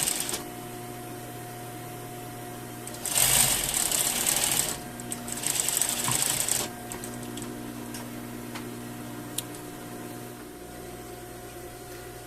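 Sewing machine stitching the center back seam of a two-piece bias-cut under collar, with two short bursts of running around the middle amid a quiet room with faint ticking.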